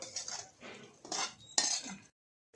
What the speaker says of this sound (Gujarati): ગ્રેવી અને ભીંડા જે આપણે એ કર્યું હતું તે આ રીતે મિક્સ કરી દઈશું હલાવીને